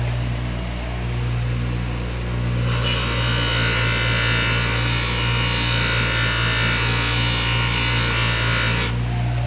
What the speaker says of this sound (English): The sanding wheel heats that metal up super fast.